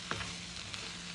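Salmon skins frying in a pan as they are stirred: a steady, fairly quiet sizzle with a few brief scraping clicks near the start, no voices.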